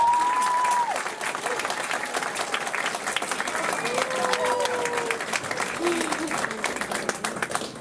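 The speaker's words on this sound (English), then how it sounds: "So please welcome, big round of applause for Nola Wheelock." An audience at a magic club show applauds for a performer, with dense continuous clapping that fades slightly, plus scattered cheers and a voice talking over it.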